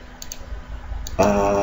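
A computer mouse gives a few quick, soft clicks while working in CorelDRAW, sounding close and sparse. A voice begins just after them.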